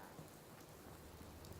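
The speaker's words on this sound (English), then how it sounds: "It's raining." Rain falls steadily in Fallout 4, a soft continuous patter and hiss, faint and unbroken.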